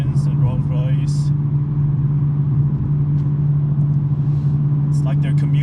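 Engine and exhaust of a BMW M3 with a six-speed manual gearbox, cruising on a Sunday morning drive: a steady, low, even drone continues throughout, with someone talking over it.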